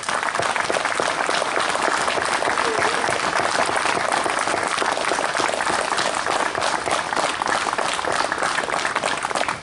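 An outdoor crowd at a war memorial ceremony in Saskatoon, Canada, applauds a committee, the clapping loud, dense and sustained for nearly ten seconds without a break.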